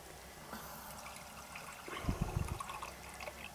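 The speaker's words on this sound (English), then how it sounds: "I'm going to add a little bit of water because there's not a lot of moisture in these vegetables" Water poured into a cooking pot of stroganoff vegetables inside a campervan, a brief splashing burst of about half a second, close and alone.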